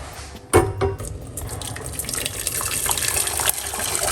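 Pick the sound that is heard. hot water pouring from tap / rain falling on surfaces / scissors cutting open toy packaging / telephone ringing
hot water pouring from tap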